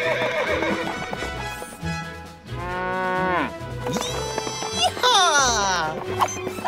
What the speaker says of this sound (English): Riding horses is a big part of the job.